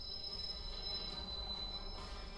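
A train in Watch Dogs rolls along steadily, with a continuous rumbling rail drone and a thin high metallic squeal held throughout at a fairly low level.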